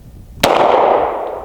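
A CZ P-07 pistol fires a single double-action shot: one sharp, loud crack followed by a broad echoing decay from an outdoor range.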